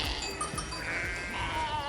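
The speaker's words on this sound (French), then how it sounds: "On a quelques brebis un petit peu mascottes sur lesquelles on met des cloches" Sheep bleat on a farm in the Creuse, a few wavering cries overlapping one another at moderate distance, with soft background noise and no clear talk.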